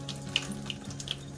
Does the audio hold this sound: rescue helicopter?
no